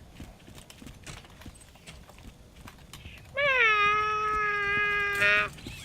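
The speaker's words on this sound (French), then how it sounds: "T'entends mon chat?" A single long, loud meow from a nearby cat rises out of a quiet, slightly noisy room and holds for about two seconds before stopping.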